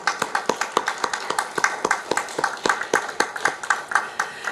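Steady rhythmic clapping from a church congregation at a harvest thanksgiving worship service, with sharp, evenly spaced claps close by, no voices.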